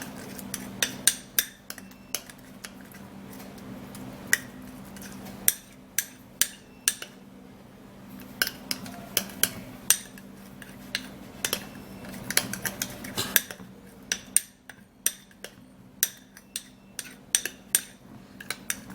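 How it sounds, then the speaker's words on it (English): A spoon mixing a foot remedy paste with toothpaste in a bowl, producing sharp, irregular clinks and taps against the bowl, sometimes in quick bursts, over a quiet steady hum. "then you mix it all up together again really well like this"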